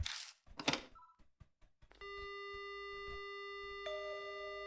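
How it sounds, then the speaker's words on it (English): In the horror game Spirit Hunter: Death Mark, a few short clicks and blips lead into a steady electronic telephone tone that starts abruptly and holds, shifting pitch slightly near the end, heard alone without speech. "The phone begins to ring."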